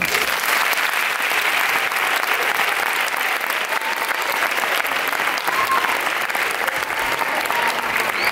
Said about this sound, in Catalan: per a tots demane un fort aplaudiment